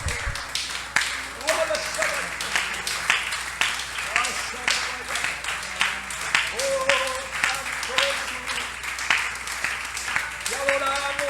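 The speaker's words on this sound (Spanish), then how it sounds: "Yo creo que merece el Señor un aplauso." Church congregation applauding during a Spanish-language sermon, steady broadband clapping across the whole stretch, with voices calling out and singing tones rising intermittently over it.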